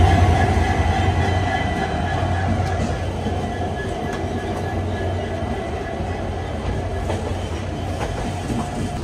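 Steady, loud rumble of a passenger train rolling slowly toward Jammu Tawi railway station in Jammu and Kashmir, on a Sri Ganganagar to Banihal journey, with continuous wheel clatter and faint squeals throughout.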